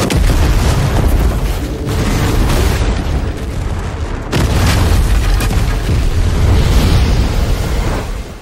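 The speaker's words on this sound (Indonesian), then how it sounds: "bom pun meledak dan menewaskan beberapa agen FBI" Heavy, continuous booming blasts of a bomb explosion in a film roll on for several seconds, loud and close, with rumbling debris and no voices.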